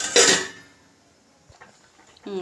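A lid goes onto a cooking pot with a single soft metallic clink. A short burst of speech comes before it and a quiet voice is heard near the end.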